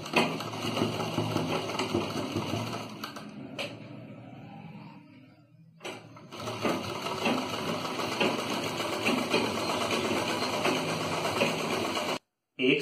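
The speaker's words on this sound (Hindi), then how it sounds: "इसके एक साइड में कपड़ा फोल्ड करके यहाँ पर सीधी सिलाई लगा देते हैं" A sewing machine runs a straight seam on folded fabric while a bell sleeve is stitched. A steady, rapid whirring chatter runs continuously, stops briefly for a few seconds, then resumes and cuts out again near the end.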